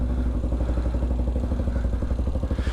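Motorcycle engine idling as it warms up, a close, loud, steady pulsing putter with an even rapid rhythm and no talking.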